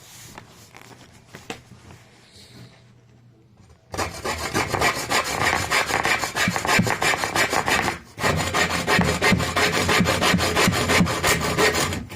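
A hand saw fitted with a converted blade cuts through wood in rapid, rhythmic rasping strokes, loud and close. A quiet pause comes first, then continuous sawing with one brief break.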